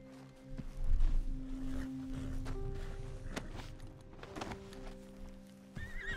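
In the video game Red Dead Redemption 2, a horse whinnies loudly up close while hooves clop slowly and unevenly, accompanied by a low musical drone.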